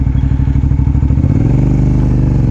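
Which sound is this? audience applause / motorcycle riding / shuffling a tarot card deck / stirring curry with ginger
motorcycle riding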